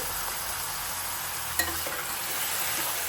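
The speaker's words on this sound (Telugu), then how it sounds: "ఇప్పుడు దీన్ని మంచిగా మనము కలుపుకుందాము." Onions are stirred in hot oil for a chicken curry, giving a steady, close sizzle and frying hiss. One utensil clack sounds partway through, and no one speaks.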